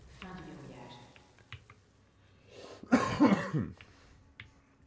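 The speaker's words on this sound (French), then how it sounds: "tousse que je n'en peux plus." A burst of harsh coughing, loud and close, following quieter voice sounds and a few light clicks.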